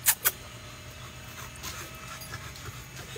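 A dog panting softly and steadily, with faint whimpers, after two sharp clicks at the start.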